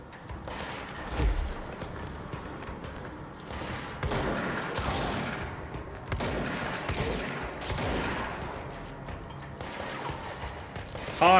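Shotgun blasts in the video game Control, a handful of heavy booming shots spaced a few seconds apart over rumbling in-game background noise, with a final loud blast at the end.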